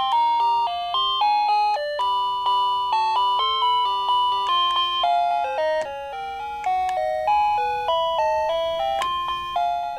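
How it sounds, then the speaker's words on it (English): An attendant call receiver plays a series of different electronic chime melodies, clear ringing bell-like tones stepping up and down in quick succession, loud and close with no voices. "And then there's also different sounding chimes."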